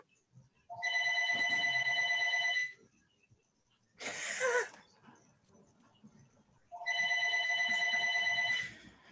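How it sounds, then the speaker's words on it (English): A mobile phone rings during an evening community board committee meeting in Manhattan, two loud stretches of a steady harmonic ringtone separated by a short noisy burst, with faint room sound beneath and no talk over it. "Turn off your phone, whoever it is."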